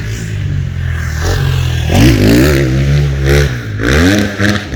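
A Barton NXT 250 or Kayo K2 motorcycle engine revs up and down several times nearby, loud and rising in pitch with each throttle blip.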